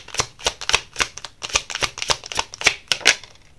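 Tarot cards shuffled and drawn up close, a quick rhythmic run of crisp riffling snaps and slaps with no voices.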